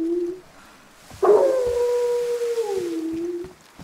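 A dog howls in the survival game DayZ, one long, wavering, falling howl that follows a short earlier note, close and clear, with no talking.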